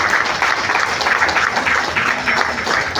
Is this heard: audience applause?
yes